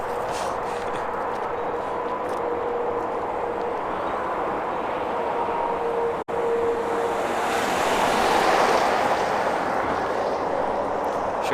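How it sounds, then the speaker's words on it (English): Strong wind buffets the microphone outdoors in Michigan, a loud continuous rushing roar that swells near the end, with a brief dropout midway and no clear speech. "Cheryl, too windy for Dead Cat?"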